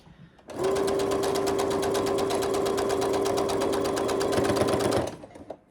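A sewing machine stitches through quilt fabric in one steady, fast, close run of about four seconds with a sustained motor whine, starting and stopping abruptly, with no speech.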